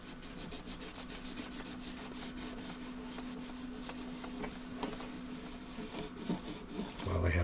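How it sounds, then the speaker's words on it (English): A rag rubs furniture polish onto a discolored area of an Eico 950B tester, giving rhythmic, close scrubbing strokes that repeat steadily over a faint hum. "I'm just going to put a little dab on a rag here. And I'm just going to wipe this area of this where it's all discolored."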